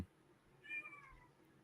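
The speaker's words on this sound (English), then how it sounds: "are you meowing at?" A cat gives a single faint meow indoors, short and rising, heard alone against quiet background hiss.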